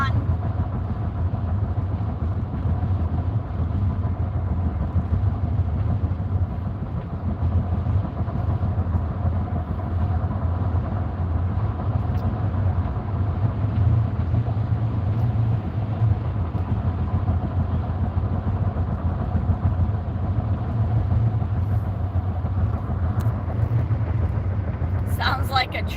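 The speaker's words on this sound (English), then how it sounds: "makes such a loud noise. I don't know if you can hear that, but it's because of the grooves in the cement." Car tires rumbling over grooved cement road, a loud, steady low droning roar heard from inside the car that continues unbroken throughout, resembling a train.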